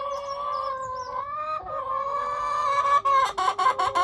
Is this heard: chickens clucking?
yes